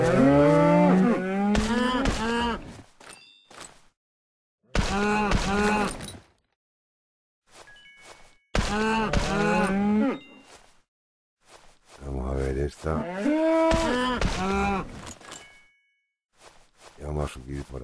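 Cattle moo in long, loud calls, several in a row with silent gaps between them, in a ranch video game setting.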